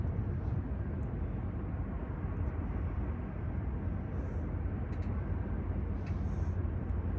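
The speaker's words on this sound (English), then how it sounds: "There's a truck pulling up. I think it's the bread delivery again. You'll probably hear a massive rumble." A bread delivery truck pulls up nearby in a parking lot, its engine a steady, loud low rumble that fills the whole stretch without pause.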